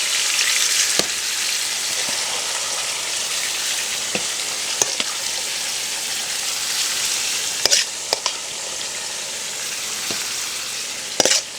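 Pieces of kidney fry in oil Jamaican style, giving a steady bright sizzle throughout with a few sharp spatter pops and utensil ticks, no talking over it.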